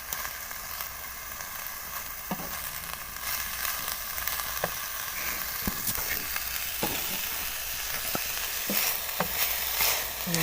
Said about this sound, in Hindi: ये इसके अंदर मिक्स कर देनी है।